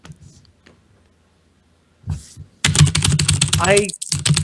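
Rapid clicking of keys on a computer keyboard held close to a microphone, starting after a couple of brief taps and running dense and loud to the end, with a voice speaking over it.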